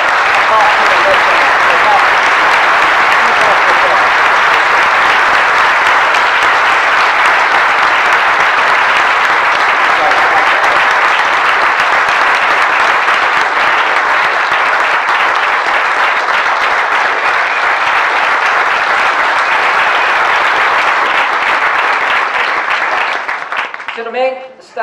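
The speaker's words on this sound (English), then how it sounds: "let's have a round of applause for Mark Webber" Sustained applause from an audience at the 2017 Bird Photographer of the Year awards ceremony, loud, dense and steady for nearly the whole stretch before tapering off at the end.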